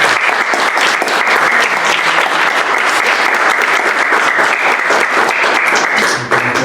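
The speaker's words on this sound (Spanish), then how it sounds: "le damos un aplauso" A conference audience of students gives a sustained round of loud clapping, dense and even throughout, with a slight dip just before the end.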